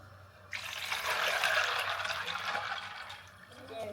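Cold water pours steadily into a container of ice for several seconds, a smooth splashing trickle that starts abruptly and gradually eases off.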